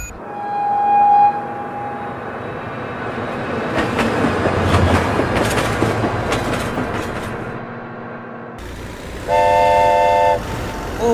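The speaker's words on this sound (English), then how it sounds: "Oh my god, train!" A train in BeamNG.drive sounds a loud, steady horn blast at the start and again near the end, with a heavy rolling rumble and clatter of passing rail cars building through the middle.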